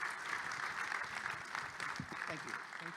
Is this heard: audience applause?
yes